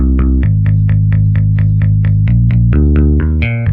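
A synth lead from the GMS plugin's Lead 3 preset in FL Studio plays a loud, bright, distorted repeating pattern of short staccato notes over a sustained low bass, with rhythmic note changes and no talk.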